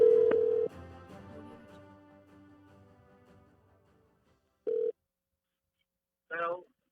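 Telephone line tones on a podcast call: a steady dial tone fades out, followed by a brief beep and then a short ringing burst, clear and close with silence between.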